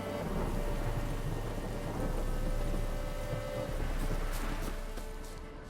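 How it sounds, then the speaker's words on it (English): Thunderstorm in the video game The Witcher 3: steady, loud rain hiss with low rumbling thunder throughout, a continuous dense wash of storm noise with no talking. "A storm, damn it."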